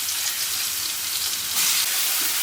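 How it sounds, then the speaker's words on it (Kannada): Coarsely ground green chili and garlic paste sizzling in hot oil for gongura chutney, a loud, dense, steady hiss close up with a slight surge near the end. "ಇದನ್ನು ಎಣ್ಣೆಲಿ ಸ್ವಲ್ಪ ಫ್ರೈ ಮಾಡ್ಕೋಬೇಕು, ಹಸಿ ವಾಸನೆ ಎಲ್ಲ ಹೋಗೋ ಥರ."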